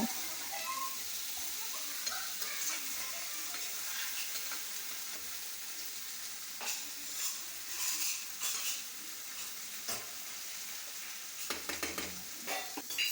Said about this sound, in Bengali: ভেজে রাখা চিকেনগুলো এবার আমি কড়াইতে দিয়ে দিলাম, দিয়ে খুব ভালোভাবে আদা রসুন পেঁয়াজের সঙ্গে কষিয়ে নেব।